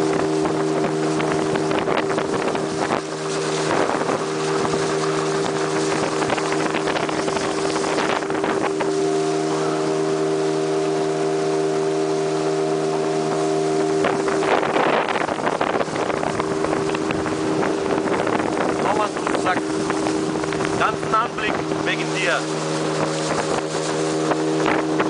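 A motorboat engine drones steadily and loudly throughout on the Guayas River mangrove delta in Ecuador, with wind buffeting the microphone and occasional shifts in engine pitch.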